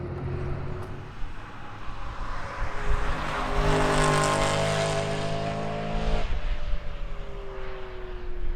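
A Ferrari V12 engine at the Nürburgring roars loud and steady, with layered engine tones rising and then dropping in pitch as the car passes near, over a broad rushing wash of sound and no talk.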